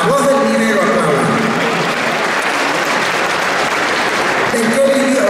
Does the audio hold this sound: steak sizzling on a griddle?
no